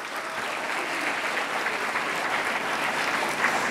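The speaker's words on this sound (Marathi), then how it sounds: "जरा जोरदार टाळ्यांचा कडकडाट." Steady, dense applause from a large student audience honouring Padma Shri eye surgeon Dr. Tatyarao Lahane at an academy event, filling the whole stretch at an even, loud level with no talk over it.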